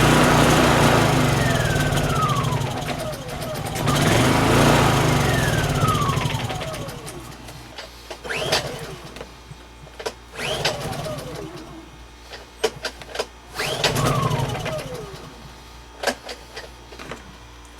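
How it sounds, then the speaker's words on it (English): A Honda EU2 portable generator is cranked repeatedly with its choke on: several pull-start whirs, each a rising then falling rasp, followed by clicks and handling noises, close and fairly loud with occasional speech. "Leave the choke on and continue trying to restart it."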